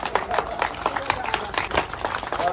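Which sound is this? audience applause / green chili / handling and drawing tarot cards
audience applause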